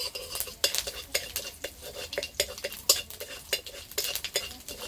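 Mustard seeds crackle in hot oil in a pan as the tempering for a Bengali jackfruit and country chicken curry, with repeated sharp spatula scrapes and clinks over a soft sizzle, close and uneven.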